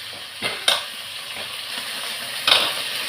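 Ingredients sauté in oil left over from frying cauliflower, a steady close sizzle with two brief louder bursts as the mixture is stirred.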